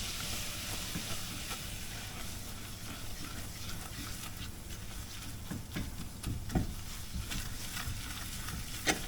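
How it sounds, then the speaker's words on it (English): Butter and flour roux stirred and toasting in a pan, a quiet constant sizzle with occasional scraping taps from the spoon, close up and without speech. "now we're going to add a 1/4 cup of flour, and we're just going to make a bit of a roux."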